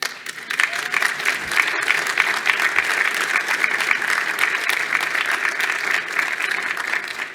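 Sustained applause from a luncheon audience at a Canadian Club business event, steady and dense throughout with no talk over it.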